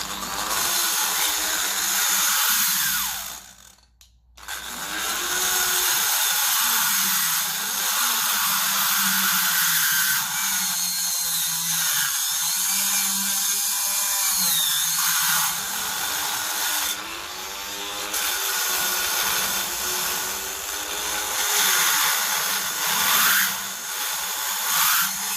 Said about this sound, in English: I might get the die grinder at that now.